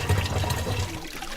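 Fresh water running at a rural Rwandan village water source fed from a mountain borehole, a steady close, low gushing flow with no talk over it.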